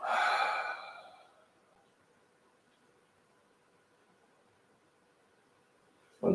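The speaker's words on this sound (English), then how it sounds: "And again, inhale in and exhale out." A single long breath out during a vinyasa yoga session, a soft airy sigh lasting over a second, heard close and alone before a quiet stretch of near silence.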